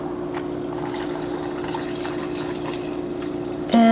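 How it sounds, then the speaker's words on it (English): Cooking oil poured into a glass Chemex, a soft continuous trickle and drip close by, ending with a brief clink. "Pour this into my Chemex."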